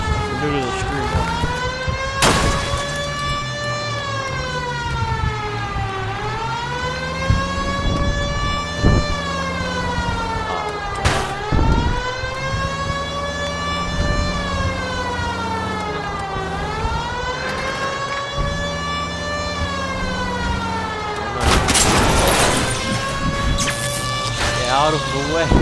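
A police car siren in the L.A. Noire video game wails loudly and continuously, its pitch sweeping up and down in repeated cycles, with engine noise and voices talking over it.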